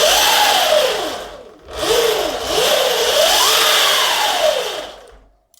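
An Ultra Bee dirt bike engine, freshly fitted with a primary chain conversion, revs up and down in several loud swooping pulls, dropping briefly between them before trailing off at the end.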